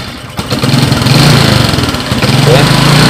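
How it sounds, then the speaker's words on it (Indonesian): A Honda Supra X 125 (Karisma X 125) motorcycle engine with a sputtering carburetor and fuel fault starts up and runs close by, a loud steady rough idle dipping briefly once before picking back up. "Oke, motor bisa nyala ya, namun kalau dilepas gas dia apa, kalau lepas gas dia mati."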